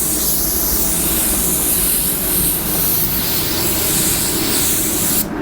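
A paint spray gun applying base coat blender, a loud, continuous close-up hiss of atomized spray lasting several seconds and then cutting off abruptly.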